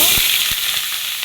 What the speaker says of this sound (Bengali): তেল গরম হয়ে গেছে এর মধ্যে দিয়ে দিলাম পেঁয়াজ